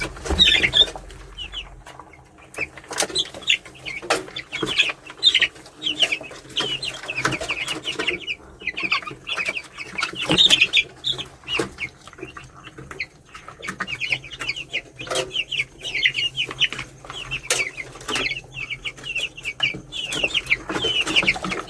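Week-old organically raised male-line poultry chicks cluck and cheep continuously, a busy chorus of many birds close by with short sharp calls overlapping throughout, no talk.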